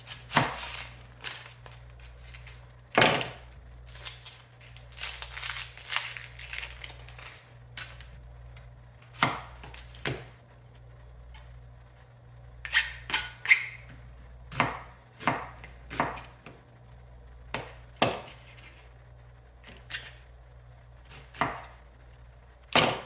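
A knife chops onions on a cutting board in irregular bursts of sharp, close taps, with short pauses between runs and a low steady hum underneath.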